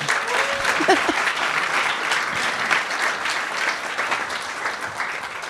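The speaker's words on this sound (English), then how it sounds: "another round of applause for Eric" Sustained audience applause for the lecturer Eric after a public lecture on the Indigenous landscape of New York City, a dense even wash of many hands clapping from the room.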